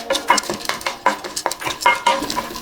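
Chana dal and dried red chillies frying in hot oil, stirred with a utensil that scrapes and taps the pan in an irregular rhythm of sharp clinks over a soft sizzle, close and fairly loud with no talk.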